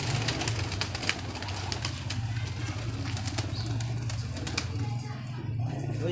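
Chapra pigeons coo in a low, steady murmur that runs throughout, with faint bird calls and background clatter mixed in and a voice talking occasionally.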